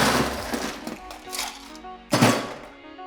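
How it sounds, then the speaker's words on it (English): Ice cubes drop into a glass and a cocktail mixing tin, giving a few hard clunks and rattles, with one louder clatter near the end. "Put some ice in there, and then we're gonna add a little bit of ice to our mixing tin."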